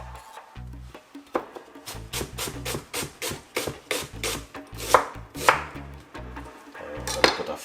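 A knife chops red onion on a board in a fast, even run of crisp, close knocks, with a few louder scraping strikes toward the end and no talking.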